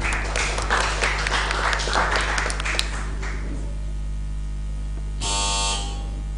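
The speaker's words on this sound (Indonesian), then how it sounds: "Tepuk tangan." Applause from a team quiz final audience rings out over a steady electrical hum, a dense patter of clapping for the first few seconds that thins out, followed by a short buzzer tone near the end.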